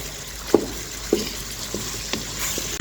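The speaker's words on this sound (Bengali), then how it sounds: "টমেটো এবং আলুটাকে খুব ভালোভাবে নেড়ে চেড়ে একটু কষিয়ে নেব" Tomato and potato are stir-fried in a pan with a soft, steady frying hiss, punctuated by a few distinct spatula knocks and scrapes at irregular intervals.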